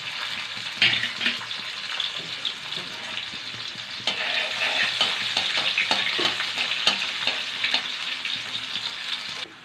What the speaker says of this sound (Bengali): তেল গরম হয়ে গেছে, শুকনো লঙ্কা, কালো জিরা ফোড়নে দেব